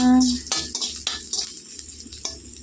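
Ginger fries with panch phoron spices in oil in a pan for a fish dal, with a soft sizzle beneath a few sharp scraping and clinking strokes of a stirring utensil, and a brief tone right at the start.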